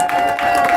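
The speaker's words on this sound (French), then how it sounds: "Et ça s'applaudit." A crowd applauding at a charity challenge event, a short dense burst of clapping at close range with no talk over it.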